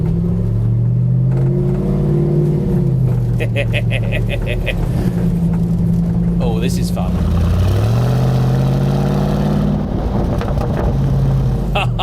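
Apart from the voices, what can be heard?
Land Rover engine revving while driving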